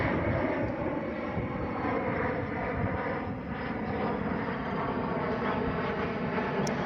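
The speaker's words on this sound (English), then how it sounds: "Here comes a plane." An airplane flies overhead while someone watches planes near an airfield, its engine roar steady, loud and broadband throughout with no talk over it.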